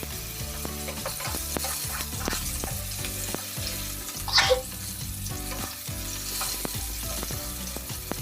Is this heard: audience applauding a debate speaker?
no